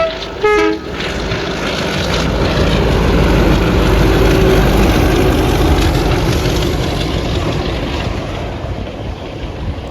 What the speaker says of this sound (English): Class 33, Lieutenant Jenny Lewis RN was coming back through again with an interesting train, which included a number of cranes